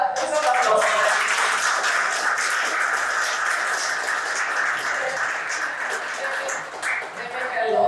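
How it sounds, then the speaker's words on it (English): Audience applause fills a conference session on DAOs and the future of work, steady dense clapping throughout with a possible voice mixed in underneath. "Please, applause."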